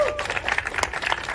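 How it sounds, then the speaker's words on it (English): A live audience at an evening event breaks into applause, a dense, steady patter of many hands clapping that continues throughout without a break. "let's give them a round of applause!"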